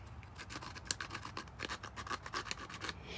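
A seed rubbed on sandpaper for scarification, a quiet rhythmic rasping scratch of quick back-and-forth strokes, close and faint with no talk.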